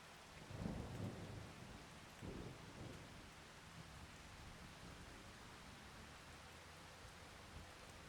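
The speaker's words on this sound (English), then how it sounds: "Still raining." Rain and thunder from the video game Farming Simulator: a steady wash of rainfall with a low rolling thunder rumble near the start, then a quieter second roll, followed by continuous even rain, no speech.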